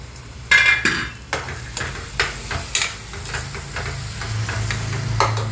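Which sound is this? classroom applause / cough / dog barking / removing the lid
removing the lid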